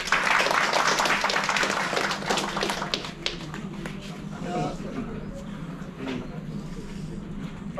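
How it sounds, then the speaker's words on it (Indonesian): An audience at a karting racing school session bursts into steady, sustained clapping that fills the space, loudest at the start and then continuing at a slightly lower, even level. "Boleh berikan tepuk tangan."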